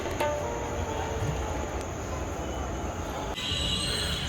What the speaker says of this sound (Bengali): চলে এসেছি নৈহাটি স্টেশন